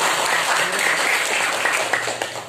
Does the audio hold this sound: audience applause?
yes